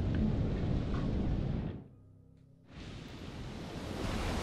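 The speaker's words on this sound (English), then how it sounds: "The storm shows no signs of letting up" Storm noise in the horror game Man of Medan: a loud, broadband roar of wind, rain and crashing waves, broken by a brief near-silent dip before the rumbling surge returns with full force.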